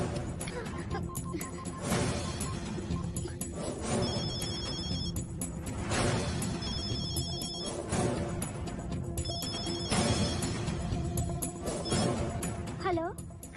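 A telephone rings repeatedly in bursts of electronic trilling, each ring separated by short pauses, set against film score and background noise.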